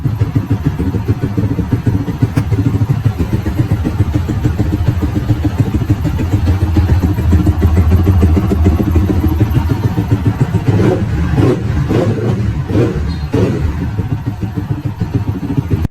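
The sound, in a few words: motorcycle starting with ECU Juken 5 Plus installed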